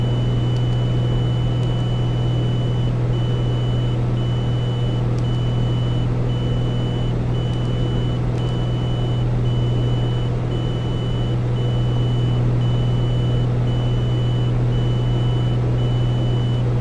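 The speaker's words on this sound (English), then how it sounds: "it's going to keep beeping when you take it off airload" Autopilot trim warning in the A2A Comanche flight simulator beeps steadily, a thin repeating tone pulsing at an even rhythm throughout, sitting over a constant low engine drone with no speech.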